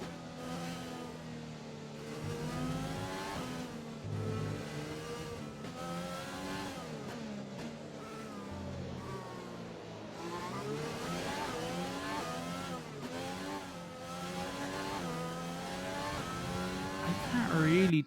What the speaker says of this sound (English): maybe that's just like what the cars sound like now